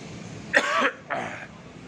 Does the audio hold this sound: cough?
yes